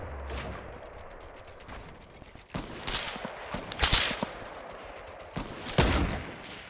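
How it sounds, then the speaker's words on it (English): Gunfire in the video game Fortnite rings out in several sharp bursts spread across the clip, with rattling reports and mechanical clatter layered over a steady game background, fairly loud and close. "Watch out, we're getting shot."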